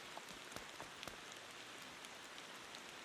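Rain in the driving game Motor Town, a steady hiss of falling rain with scattered sharper drops pattering like water on a tent, even and continuous with no voice.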